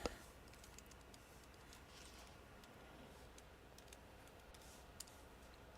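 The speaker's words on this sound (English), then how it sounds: "Oh man, stop typing." Steady rapid clicking of a computer keyboard being typed on, continuous and fairly close for several seconds, with occasional sharper key taps.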